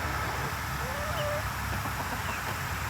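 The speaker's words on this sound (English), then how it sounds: "Here comes that little rooster." A young rooster and chickens in a backyard flock make faint, thin calls and soft clucks over a constant hum of background noise, distant and quiet.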